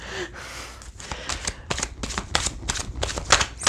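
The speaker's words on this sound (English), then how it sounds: "I have recently discovered that the reason why I don't shuffle and talk is because I can't." Oracle cards from a Mystical Moments deck are shuffled by hand, a close series of quick riffling bursts and soft snaps repeating irregularly, with no talk.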